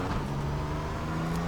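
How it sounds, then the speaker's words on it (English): Porsche Cayman GT4 engine in the iRacing sim held at full throttle at Laguna Seca, a steady droning engine note with a sustained low hum, continuous and fairly loud with no talk. "And at this point you can full throttle all the way out."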